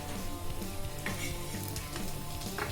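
Puran poli, a flatbread stuffed with chana dal, fries in a pan with a continuous close sizzle, broken by a few light scrapes and taps of a spatula.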